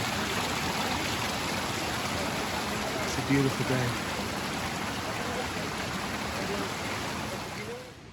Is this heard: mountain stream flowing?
yes